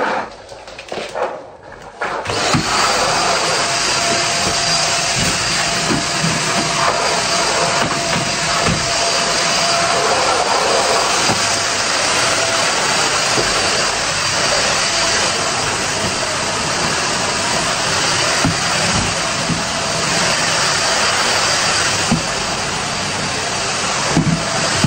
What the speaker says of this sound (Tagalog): Vacuum muna tayo.